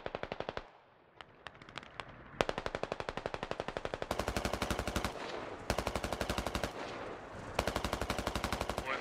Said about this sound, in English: They're shooting us with small arms, it seems like